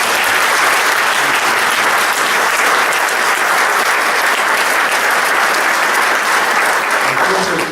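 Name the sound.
audience applause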